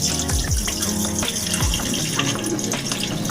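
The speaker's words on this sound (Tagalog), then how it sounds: "i-wash lang natin yung rice. Let's wash it." Rice being washed in water, with continuous splashing and sloshing up close as the grains are swirled and rinsed, loud and without talking.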